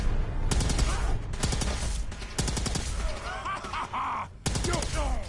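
Gunfire in Fallout 4 comes as repeated bursts of rapid shots with short gaps between them. A voice speaks over parts of the shooting, and the sound stays loud and near throughout.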